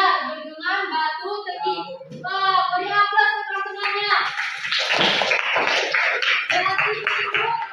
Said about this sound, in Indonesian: beri aplaus untuk teman-temannya